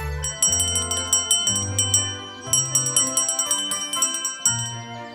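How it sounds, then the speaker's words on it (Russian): A small hand bell with a clapper inside rings out as it is shaken, giving bright, repeated jingling strikes in quick rhythmic bursts that sound close and clear over a soft musical backing. "Вот так звучит колокольчик."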